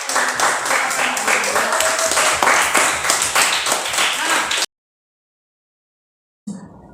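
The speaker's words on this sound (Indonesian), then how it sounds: "Oke, kasih tepuk tangan buat kelompok 1." A classroom of students claps together for a group after a science presentation on acids, bases and salts, with rapid, fairly loud clapping and some voices mixed in, stopping sharply partway through.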